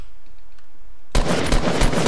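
Gunfire in Fortnite, probably a sniper rifle, erupts halfway through as a loud, dense burst of shots after a quiet start.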